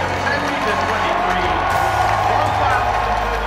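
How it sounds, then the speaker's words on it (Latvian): Spectators in a stadium crowd at the London 2012 Paralympics cheering and applauding a Latvian athlete, a dense continuous roar of voices and clapping with a commentator talking over it. "Skatītāji gavilis un aplausi Latvijas paralimpietim Aigaram Apinim."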